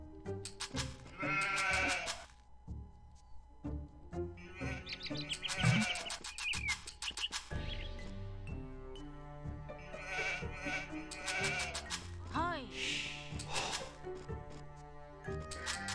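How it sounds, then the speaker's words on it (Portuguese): Sheep bleat repeatedly in the video game Age of Empires 2, several short wavering calls that overlap with steady in-game sounds and music, fairly close and clear. "Ali algumas ovelhas chegando ali no meu"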